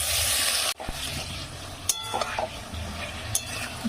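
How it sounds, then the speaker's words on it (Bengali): Cut eggplant pieces dropped into lightly heated oil with turmeric in a pan, giving a steady close sizzle with a sharp clatter near the start and scattered stirring scrapes over the frying. "এবার এখানে আমি কেটে রাখা বেগুনগুলো দিয়ে দেবো।"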